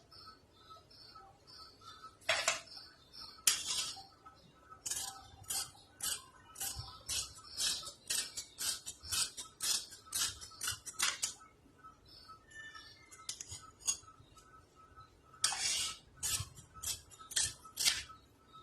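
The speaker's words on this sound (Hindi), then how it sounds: "अब जितना हमारा सिलाई का मार्जिन लेना है वो लेके अब हम उसकी कटिंग कर लेंगे" Scissors snip through fabric while a qameez is cut out, in bursts of crisp, rapid closing strokes separated by pauses, close and fairly quiet with no talk.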